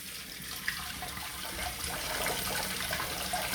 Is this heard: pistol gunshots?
no